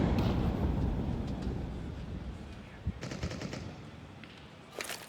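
Rapid automatic gunfire and single shots from a Counter-Strike match at a Major quarterfinal, sustained rattling bursts with sharper shots near the middle and end, continuous and fairly loud.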